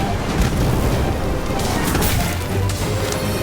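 Incendio fire spell blast in the Harry Potter: Magic Awakened video game, a loud, dense roaring burst that stays full and sustained throughout, with crashing impacts layered over game music.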